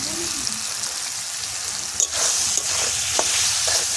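Banana flower curry with chickpeas and spices sizzles steadily in a pan while being slowly stirred, a continuous close frying hiss broken by a few scraping strokes.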